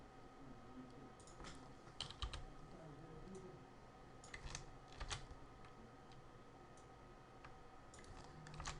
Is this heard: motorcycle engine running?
no